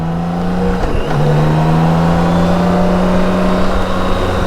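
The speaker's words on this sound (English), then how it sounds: "there's me doing a second gear pull away." A BMW K1600 GTL motorcycle pulls away in second gear, its engine a loud, close, smooth drone that dips briefly then settles into a steady rising hum as the bike gets under way.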